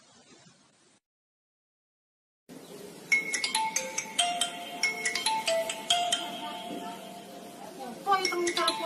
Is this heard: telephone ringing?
yes